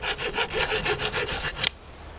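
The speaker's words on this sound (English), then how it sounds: "It doesn't take a lot of filing." A file scrapes a bevel onto a freshly cut edge in quick back-and-forth rasping strokes, close and fairly loud, before stopping abruptly into quiet.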